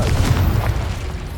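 A Confringo fire spell explodes in the video game Hogwarts Legacy, a single short, deep rumbling boom that decays quickly.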